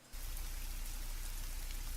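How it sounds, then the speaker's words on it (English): Rain ambient sound effect playing in an Unreal Engine 4 scene, a dense steady hiss of falling rain that starts abruptly and continues evenly at moderate level. "where I'm standing now, I can hear the rain"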